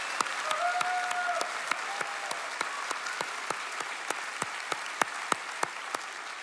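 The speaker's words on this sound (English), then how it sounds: "So if we could give a big, big round of applause" An audience applauds through a round of applause at a science event's closing remarks, with steady, dense clapping and a few sharp, louder individual claps standing out. A brief tone sounds near the start.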